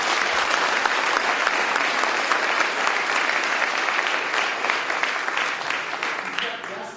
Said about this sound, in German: Darf ich mal um einen Applaus bitten?